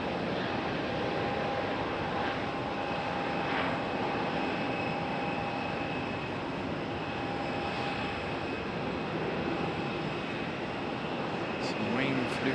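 Frontier Airlines airliner departing Raleigh-Durham International, its engines a steady, fairly distant broadband roar holding for the whole stretch with a faint tonal whine above, no speech over it.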